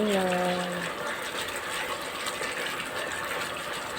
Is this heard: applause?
no